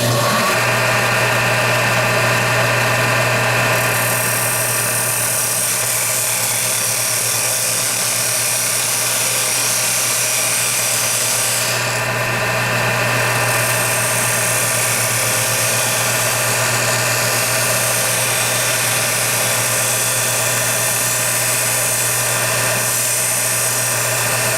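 A wood lathe spins a mango wood lid, producing a steady, continuous motor hum with a strong low tone and bright hiss throughout, loud and unbroken.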